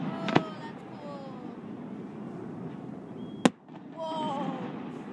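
Christmas festival fireworks at Lake Arthur, Louisiana: two sharp, loud bursts go off, one near the start and one past the midpoint, over steady crowd murmur and nearby voices chatting.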